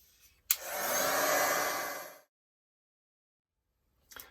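A handheld dryer blows on wet gesso on an art journal page, clicking on sharply and whirring in one steady burst for under two seconds before cutting off, followed by a brief faint noise.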